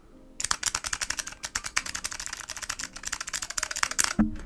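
Fast bursts of keystrokes on a metal JO2 keyboard with Alps switches, sharp clacky presses close up in a dense uneven rhythm, finishing with a heavier thud.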